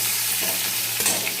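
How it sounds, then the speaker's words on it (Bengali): Bitter gourd pieces fry in hot oil in a pan, giving a steady, close sizzling hiss throughout with a few brief crackly bursts and no voices. "উচ্ছেটা আগে ভেজে নিই।"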